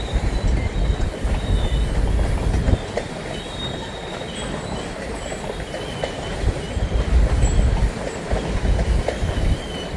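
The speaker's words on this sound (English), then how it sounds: "Grain train!" Freight train hauling grain and coal cars rolls past steadily, a continuous rumble with wheel squeal and rail clatter that swells and eases over the clip, no voices.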